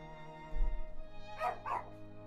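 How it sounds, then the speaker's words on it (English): A dog gives two quick, close barks in succession over a quiet, steady background of soft tonal music. "My bad, sorry for the dog."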